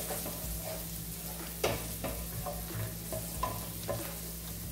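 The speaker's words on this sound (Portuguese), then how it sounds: "Deixa o alho aqui dar uma fritadinha." Finely chopped garlic, two cloves, frying in a pan, a steady close sizzle broken by a few light spoon scrapes and taps.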